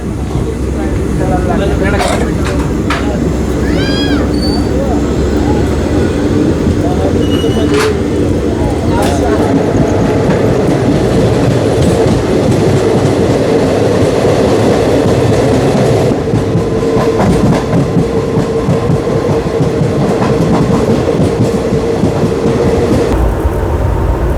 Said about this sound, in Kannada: ಟ್ರೈನ್ ಸಿಗ್ನಲ್ ಆಗಿ ಡಿಪಾರ್ಟ್ ಆಗಿಬಿಡ್ತು